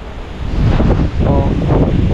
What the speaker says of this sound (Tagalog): Malakas ang hangin ngayon eh.